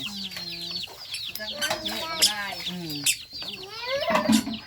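Chickens clucking close by at a rural home in the morning, a busy stream of repeated calls and squawks from several birds, with a person talking briefly among them.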